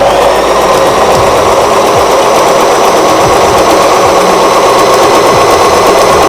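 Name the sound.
Singer Start 1306 sewing machine motor stitching cloth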